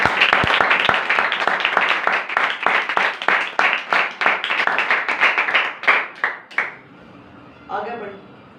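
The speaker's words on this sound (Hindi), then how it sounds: "एक बार जोरदार ताली।" An audience in a church gathering bursts into loud, close applause, dense clapping that holds for about six seconds before thinning into a few last claps and fading, followed by a brief murmur.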